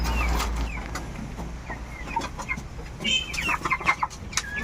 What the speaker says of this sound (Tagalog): dito kami sa kulungan ng manok